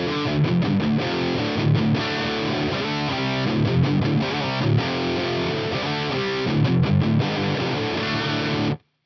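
Yamaha GEP 50 multi-effects unit on its heavy metal preset, full distortion, shaping a loud electric guitar that plays dense chugging chords and riffs continuously for about nine seconds before cutting off abruptly.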